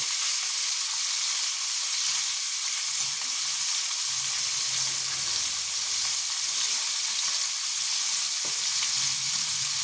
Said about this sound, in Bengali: ভেজে নেব, লাল লাল করে ভেজে নেব।